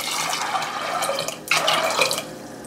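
Water poured from a glass into a pressure cooker holding peas and quartered potatoes, a steady close splashing trickle with a brief pause and then a second fuller pour.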